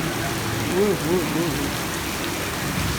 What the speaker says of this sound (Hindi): बारिश ने कमाल कर दिया है।